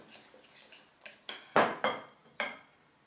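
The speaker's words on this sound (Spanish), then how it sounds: "Ahora lo batimos todo hasta que dejemos una masa totalmente homogénea" A whisk beating batter of flour and fresh parsley in a bowl, heard as a handful of sharp metallic clinks and scrapes against the bowl in an uneven rhythm, close by, with no voices.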